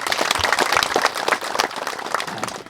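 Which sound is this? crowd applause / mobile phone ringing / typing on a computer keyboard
crowd applause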